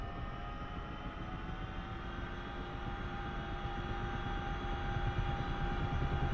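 Twin turbine engines of a CH-47F Chinook helicopter run steadily in the DCS flight simulator, a dense, constant whine and rumble with a faint tonal hum that swells gently louder toward the end, with no voices.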